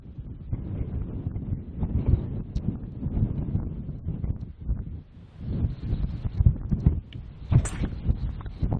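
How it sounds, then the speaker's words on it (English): Strong wind on a golf course buffets the microphone in heavy, uneven low rumbling gusts, with a few brief sharper knocks breaking through near the end. "Really windy conditions here today, I have to say."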